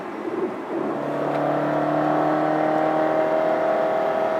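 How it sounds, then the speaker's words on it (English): A Dodge Dart engine revs toward redline, the raspy tone rising into a loud, sustained whirring drone close by, with no talking. "Get the revs up near redline, and it's a very raspy sound."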